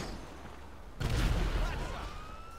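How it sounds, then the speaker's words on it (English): A sudden loud explosion in GTA 5 Online bursts in after a quiet second, booming close and then rumbling and fading into background noise. "I'm getting hit by explosions every time I'm about to step up"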